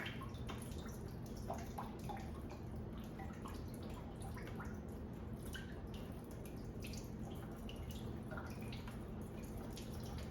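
Water drains from a Spotless water system resin tank into a bucket: a steady, close trickle and splash with scattered drips running continuously the whole time, with no talking.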